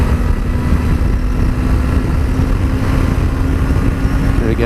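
A 2017 Suzuki GSX250R motorcycle pulls out to overtake, its engine droning steadily and loudly under heavy wind rush with no change in pitch, the rider silent.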